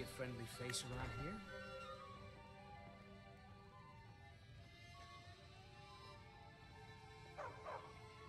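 A video game dog barks and yips loudly at the start, then whimpers faintly a few seconds later, set against a soft ambient game background with a voice speaking nearby.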